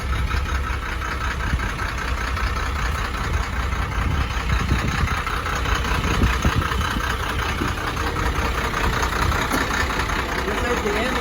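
A Ford F600 dump truck's inline six-cylinder turbo diesel runs steadily at a rough, even idle, droning close by throughout with no clear changes in pitch.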